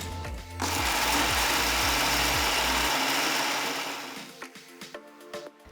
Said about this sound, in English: Now transfer the cool down dal ingredients to a mixer jar and grind them into a fine powder.